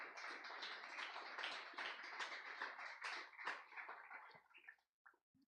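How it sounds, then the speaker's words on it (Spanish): Church congregation applauding together during a worship service, a dense wash of many hands clapping loudly for several seconds before tapering off into a few scattered claps. "dale un gran aplauso al Señor"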